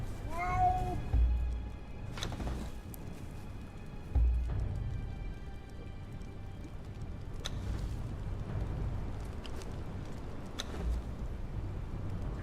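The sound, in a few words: cat meowing in Conan Exiles video game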